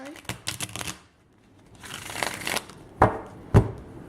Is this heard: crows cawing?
no